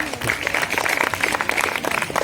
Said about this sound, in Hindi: एक बार फिर से अपने लिए ताली बजाइए